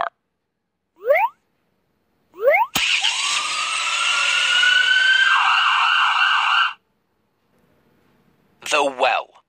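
A loud police car siren sounds for about four seconds, sweeping upward then pulsing in a fast warble, with brief cartoon voice bits before and after.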